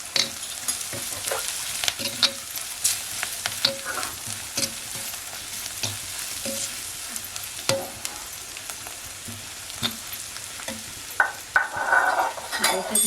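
Wild vegetable and onion frying in oil in a pan on a wood-fired stove, a continuous close sizzle broken by frequent scrapes and clinks of a spoon stirring against the pan.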